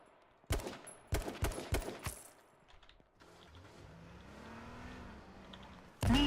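Rapid bursts of video game gunfire crack in several quick volleys during a Twitch stream, followed by a steadier engine-like mechanical drone and a loud burst at the end.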